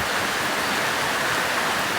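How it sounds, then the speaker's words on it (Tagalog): Heavy rain pours down in a dense, steady roar of broadband hiss, loud and unbroken, with no voices. "Sobrang lakas na naman ang ulan ngayon."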